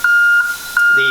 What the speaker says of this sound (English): So this alarm here on this side that's going off right now, it runs on the control switch.